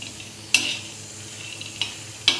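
Peanuts dry-roasting in a pan while being stirred: a faint, steady low sizzle under three sharp metallic clinks of a spoon against the pan, spaced irregularly, close and with no talking.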